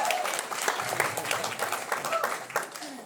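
A comedy club audience in Portland, Oregon claps for a comedian, a brief burst of scattered, moderately loud clapping that thins out over a few seconds.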